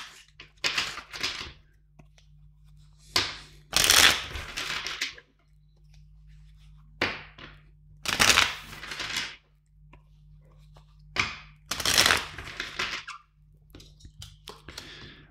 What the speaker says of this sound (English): Let's start with shuffling first the deck and checking the energies.